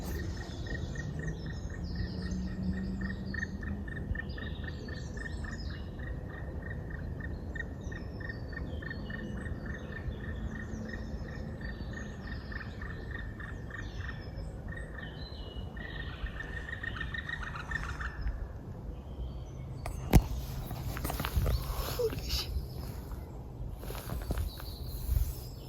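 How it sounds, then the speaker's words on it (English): A forest at close range carries birdsong and the calls of a black woodpecker, over a steady insect-like trill. Late on come some louder rustles and knocks. "That's the black woodpecker. And he was really close."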